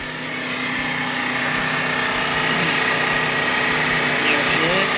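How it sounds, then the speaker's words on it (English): A generator runs in the engine room of a 2002 Formula 37PC boat with the hatch open, giving a steady, fairly loud mechanical hum that holds constant throughout. "You can hear the generator running."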